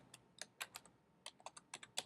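Quiet computer keyboard typing, scattered clicky keystrokes in short bursts with brief pauses, close and alone without voices.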